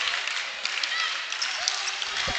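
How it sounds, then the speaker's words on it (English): Students in a high school basketball crowd keep up a steady, rhythmic clap that fills the gym at moderate volume, with crowd chatter mixed in throughout. "The clap starting from the student section again"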